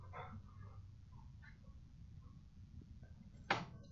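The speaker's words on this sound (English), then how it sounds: "Sorry about the growling. They're playing." Dogs growling while playing make faint, low, rough rumbles with a few soft whimpers and one sharper yelp near the end.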